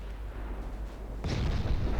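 Heavy cruiser guns firing armour-piercing shells at night in the naval strategy game Ultimate Admiral Dreadnoughts, a deep rumbling salvo swelling sharply and sustained over low background rumble, with no voices.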